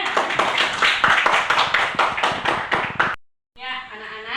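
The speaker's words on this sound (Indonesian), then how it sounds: "Tepuk tangan untuk semuanya." A class of children claps together in a quick, rhythmic pattern for about three seconds, loud and close, then a brief silence before a voice begins speaking.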